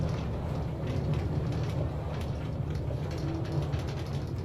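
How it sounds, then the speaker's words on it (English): Minecart train rolling along rails in Minecraft, a steady low rumble with faint rhythmic clacking, continuous and moderately loud without any talking. "So I'm just gonna take a train into the city."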